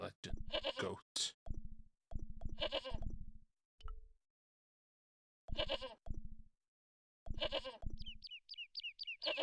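Goat in the Broken Sword video game bleating repeatedly in short, loud bursts with brief silences between, close and clear, alongside a few other short game sounds.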